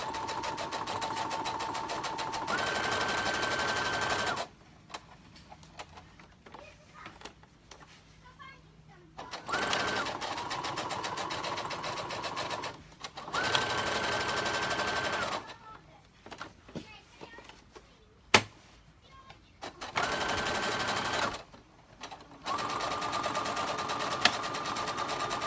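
A sewing machine runs through padded fabric in several loud bursts of steady whirring, separated by quieter pauses with background sounds and a voice talking between runs.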